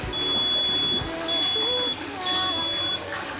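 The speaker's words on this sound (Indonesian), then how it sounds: "Avometer ini kita pilih switch yang bip ya." A multimeter set to continuity mode, testing cables during a satellite water pump repair, gives a steady high-pitched beep that repeats with short gaps between tones over a faint background.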